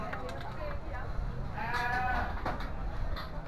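Sheep bleat faintly at a livestock market selling large rams, one wavering bleat standing out above a noisy crowd background where people talk.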